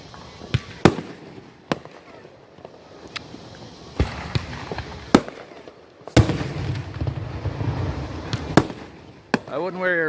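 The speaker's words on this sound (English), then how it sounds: "The 2018 Booneville 4th of July fireworks show" Fireworks at a small-town 4th of July show in Booneville burst with sharp, scattered booms and crackles, some near and loud, others distant, with crowd chatter and voices between the blasts.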